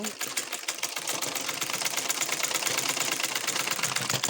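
A sewing machine runs steadily, stitching seams on a kameez, its fast even rattle loud and close and continuing without pause.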